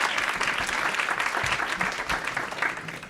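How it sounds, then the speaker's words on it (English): Dense, sustained audience applause for a group of women in a conference main room, loud and steady throughout with no pauses. "if you would give these ladies a hand of applause"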